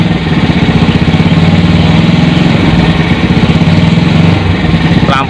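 Motorcycle engine fitted to a car, running steadily at a close, loud, even idle that powers the lights, with a pulsing low rumble throughout.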